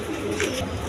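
Pigeons nesting with eggs and squabs at a pigeon farm, a soft cooing murmur lasting under a second against a steady background hum.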